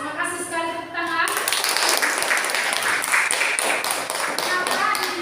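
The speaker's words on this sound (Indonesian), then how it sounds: "Bagus, terima kasih sekali tepuk tangan." Students in a classroom during a civics lesson on democracy break into quick, dense applause after a brief voice at the start. The clapping stays steady and fairly close until the end.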